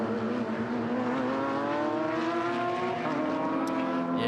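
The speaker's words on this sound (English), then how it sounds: "That's great to hear about the 944s, the fastest racing cars at Hampton Downs." Porsche 944 race cars circulate at Hampton Downs racetrack during a New Zealand championship round, their engines droning and rising in pitch as they pass, a continuous mid-distance roar without talk.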